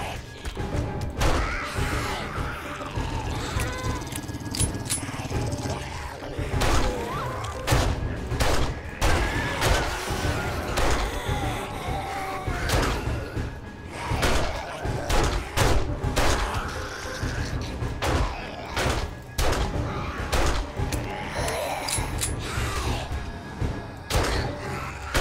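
Gunfire aimed at zombies in the survival game 7 Days To Die: loud, close shots crack out in irregular bursts and rapid clusters, with heavy thuds mixed in throughout.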